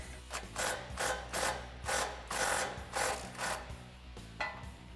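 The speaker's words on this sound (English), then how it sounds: "I'm going to use a 19mm socket and my impact wrench to do that" An impact wrench with a 19mm socket hammers at a castle nut on the spindle of a Toyota Tacoma's front suspension, firing in about half a dozen loud, close, rattling bursts separated by short pauses.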